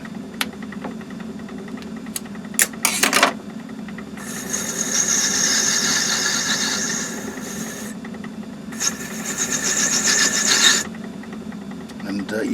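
Metal lathe fitted with a boring head turning a ball, giving steady raspy cutting passes that rise for several seconds, pause, then return, with a few sharp clicks and knocks in between over a low machine hum.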